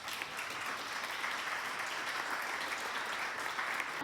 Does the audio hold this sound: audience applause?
yes